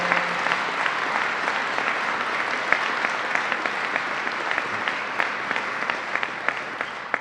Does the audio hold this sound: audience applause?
yes